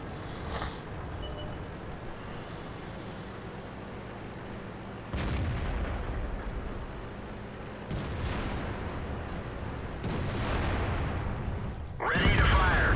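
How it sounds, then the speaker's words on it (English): Airstrike explosions in the World of Tanks video game, with a Bat Chat tank in Steel Hunt mode: a continuous rumbling battle bed broken by several sharp, loud blasts and bursts that end in a heavy impact. "I called in that airstrike"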